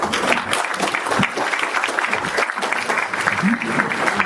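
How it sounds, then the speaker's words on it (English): An audience at a pulp fiction convention panel claps steadily and densely for a few seconds, a sustained wash of applause filling the room. "Big round of applause for these guys."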